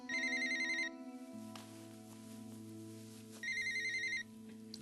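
Telephone ringing in a TV drama scene, two electronic ring bursts separated by a pause, with a low sustained musical tone underneath.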